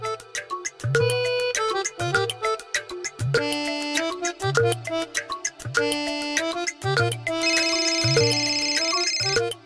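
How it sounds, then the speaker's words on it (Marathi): A phone rings repeatedly indoors in a household scene, its electronic ringtone sounding in regular bursts with a melodic chime pattern, loud and close, with no talking over it. "अगं तो फोन घे ना, फोन वाजतोय"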